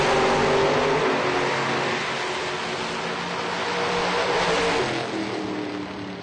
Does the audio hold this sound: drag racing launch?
yes